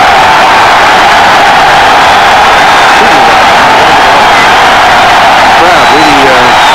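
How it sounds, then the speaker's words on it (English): A football stadium crowd at a 1993 Fresno State vs BYU college game roars in a steady, loud wash of cheering, with a commentator talking over it throughout. "Crowd really getting with it"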